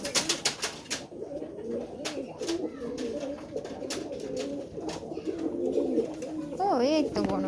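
A bonra pigeon coos repeatedly in a household setting, a soft low rolling call heard close by, with talk and clicking noises over it and a rising whistle-like sound near the end.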